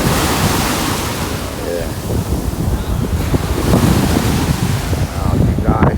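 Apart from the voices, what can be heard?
ocean waves and wind at Miami North Beach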